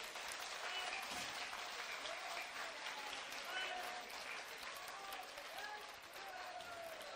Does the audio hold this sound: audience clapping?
yes